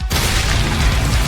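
A heavy hammer blow smashes a hard object, giving one loud, dense boom that fills the short stretch with no voices over it.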